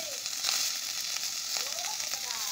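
Tomato dropped into a hot pan of garlic and ginger paste for a masala mushroom dish, giving a steady close sizzle and frying hiss throughout with faint stirring clicks.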